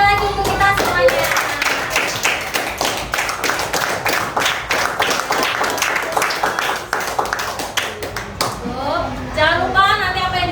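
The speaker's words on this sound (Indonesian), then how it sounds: "Beri tepuk tangan sekali lagi untuk kita semuanya." Schoolchildren clap together in a classroom at the end of a lesson, a steady, dense burst of applause that runs the whole time, with a few children's voices rising near the end.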